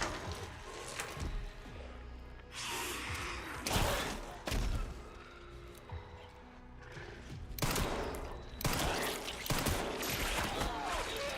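Repeated bursts of gunfire while shooting a creature in the video game Resident Evil Requiem, several loud volleys and thuds spread through the stretch over a busy game soundscape.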